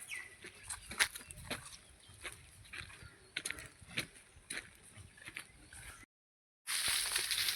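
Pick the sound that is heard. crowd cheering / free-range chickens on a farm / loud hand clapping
free-range chickens on a farm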